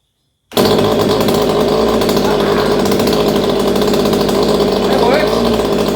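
A chainsaw engine fires up after priming and choke, then runs loud and steady at close range with a dense, buzzing drone that holds for several seconds.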